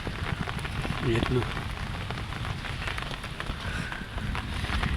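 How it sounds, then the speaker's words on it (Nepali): Large hailstones pelt down in a steady, dense roar of patter and rattling. A person speaks briefly over the din. "असिनाले भरिरहेछ यतै"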